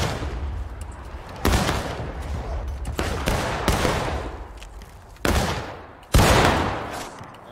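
Musket volleys from a large Civil War-era battle in War of Rights, several loud sharp cracks with booming echoes spaced a second or so apart over a constant distant crackle of scattered fire.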